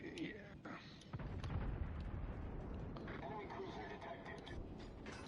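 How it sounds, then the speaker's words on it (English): Secondary guns of a Russian cruiser in World of Warships Legends, firing in repeated booms and thuds over a rumbling battle background, moderately loud, with a player's quiet voice talking throughout. "Love them secondaries going off."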